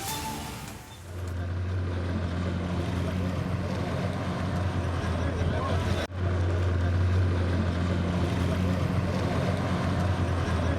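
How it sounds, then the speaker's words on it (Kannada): Water bike ridden across Kanva reservoir, its steady engine drone running loud and continuous throughout, with a brief dip near the start and a sharp break midway. "ಕಣ್ವ ಜಲಾಶಯದಲ್ಲಿ ಇವತ್ತು ವಾಟರ್ ಬೈಕ್ ರೈಡ್ ಮಾಡ್ತಾ ಇದ್ರು."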